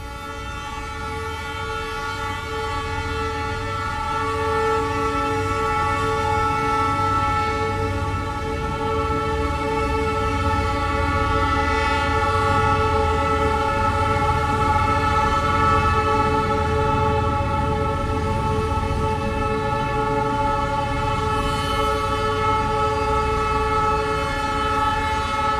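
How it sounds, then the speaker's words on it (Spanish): Trains rolling past a home right beside the railway tracks, a loud continuous rumble with steady tonal rail hum and faint clickety-clack running unbroken for the whole stretch. "vivo al frente de los trenes y casi siempre están pasando los trenes por aquí"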